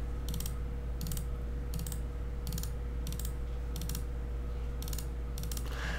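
A CNC router on a rotary axis trims a wooden rolling pin, cutting in a steady hum while sharp rapid bursts of chatter repeat at regular intervals, about eight times, close up and with no talk.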